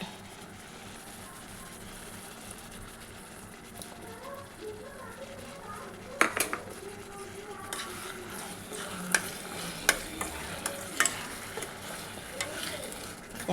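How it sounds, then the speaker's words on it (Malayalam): Tamarind water poured into a hot pan of oil-free dates pickle, bringing a soft background sizzle and bubbling with stirring, then sharp scraping and clinking utensil hits in the latter half. "നമ്മുടെ പുളിവെള്ളം ഒഴിച്ചു കൊടുക്കാം"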